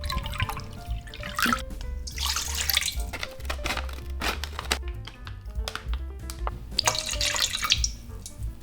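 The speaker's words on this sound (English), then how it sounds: "Let cold water run into the noodles and wash it like this." Cold tap water pours steadily into a sink to rinse cooked noodles, a close splashing stream with shifting gurgles and drips, loudest in bursts as the noodles are washed.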